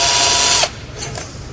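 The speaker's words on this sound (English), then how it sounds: "We do have to drill a couple of 1/4-inch holes into the frame of the car to mount the brackets" A power drill bores quarter-inch holes into a car frame with a loud, steady whine that cuts off abruptly, leaving faint workshop noise.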